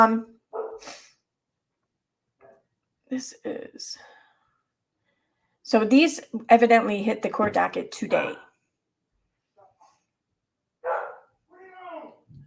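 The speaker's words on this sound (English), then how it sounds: "It's like 1:30 a.m. and the dog won't stop barking." A dog barks in short bursts late at night, around 1:30 a.m., with gaps of silence between, while a person talks quietly nearby.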